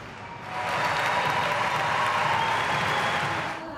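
A local crowd at a Youth Olympics gymnastics qualification in Buenos Aires cheers and applauds a gymnast. The sound swells quickly into a loud, dense roar that holds for a few seconds, then fades.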